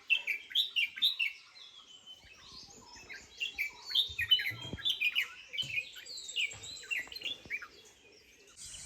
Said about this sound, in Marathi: आता मला इथे पक्ष्यांचे आवाज ऐकायला येतात